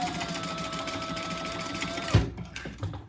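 A sewing machine stitches a seam on vinyl for a zippered pouch, a steady rapid mechanical whir that stops abruptly after about two seconds, followed by a few soft handling clicks.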